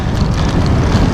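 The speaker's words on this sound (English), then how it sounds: "Wind is getting more to the headwind." Steady broadband wind rush from a cyclist's headwind on a Big Bend road between Fort Davis and Marathon, Texas, a continuous low roar buffeting the microphone with no talk.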